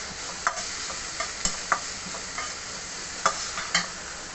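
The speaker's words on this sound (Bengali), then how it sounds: "সবগুলো উপকরণ আরেকবার নাড়াচাড়া করে দিচ্ছি" Pabda fish roll filling, seasoned with salt and white pepper, stirred in a pan, with a faint sizzle under scattered light scrapes and clicks of the spoon against the pan, no voices.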